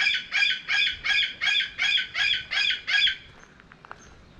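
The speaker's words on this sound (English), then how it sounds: "Some kind of noisy bird in here." A noisy bird calls from close by on a morning walk in an Andean mountain town in Colombia, giving eight bright, rhythmic cries in quick succession before falling quiet.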